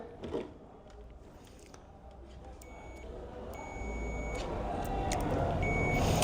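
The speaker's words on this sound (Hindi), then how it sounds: "दोनों सिरे पर लगा देंगे, बीप की आवाज हो जाएगी। मतलब कि ये हमारा फ्यूज सही है।" A clamp meter set to continuity mode beeps as its probes touch both ends of a good fuse, with short steady tones repeating over a low rumbling background.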